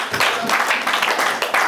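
A church congregation breaks into loud, dense applause to acclaim the Lord, a steady wash of many hands clapping close by for the whole moment.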